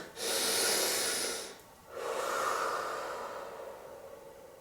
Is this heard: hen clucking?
no